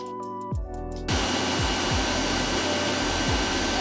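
A fume extractor fan for a laser cutter starts up and runs with a steady, loud broadband whoosh, after a short quieter stretch of machine hum and a few faint ticks at the start.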